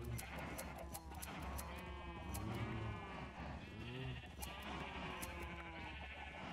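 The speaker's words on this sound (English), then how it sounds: "Yeah, look at all those sheeps." Sheep bleating in Minecraft, several overlapping wavering calls from a flock, fairly close and steady across the whole stretch, with no talk over them.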